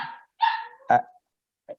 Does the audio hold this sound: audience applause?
no